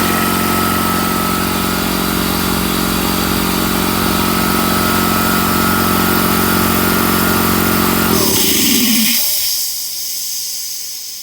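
A Quincy QTV-54E air compressor runs loud and steady at close range with a constant motor drone and hiss, then is switched off and winds down over the last few seconds.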